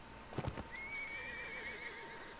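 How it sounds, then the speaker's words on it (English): In Blood & Gold: Caribbean, a game horse's hooves thud a few times before it lets out a drawn-out, quavering whinny over constant background game noise. "Now, I don't know if I'll be able to get my horsey out of here."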